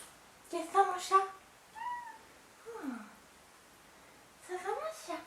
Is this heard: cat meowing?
yes